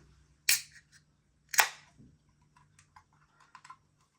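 Two sharp metallic clicks of a Hackney Church Halo Helles Lager can tab being pulled, followed by small faint taps and rattles.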